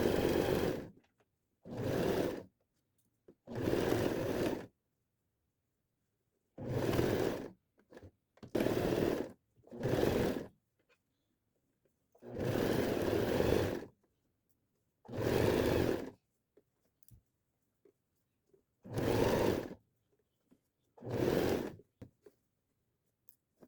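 An electric sewing machine stitching a plush pencil case, running in about ten separate bursts of a few seconds each with silent pauses between, close and clear with no talking.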